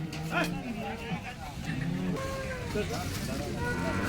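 Cattle mooing at the Baramati cow market, several lowing calls rising over a noisy crowd of people talking, with harmonic bellows recurring through the short stretch.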